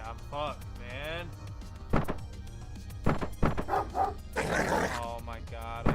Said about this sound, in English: Oh my god, I hate these fucking dogs.